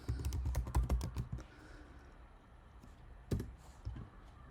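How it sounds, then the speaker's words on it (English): Quick clicking keystrokes on a computer keyboard come in a burst, then go quieter, with a few more taps near the end. The typing is close and soft. "Or press Command and Space together, okay? And type in terminal."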